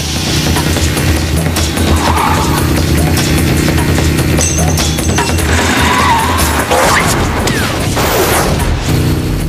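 A desert car chase from a Mad Max-style action film: engines roar loud and unbroken, with tires skidding and crashing impacts piled densely throughout.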